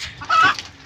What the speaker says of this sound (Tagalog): So total nandito na yung ating mga alaga manok.